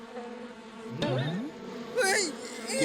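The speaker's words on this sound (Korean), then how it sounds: "꿀벌은 당신을 좋아하는 것 같은데" Cartoon honeybees buzz in an animated robot series, a thin whining drone that swells at about one second and again near two seconds over a steady music bed.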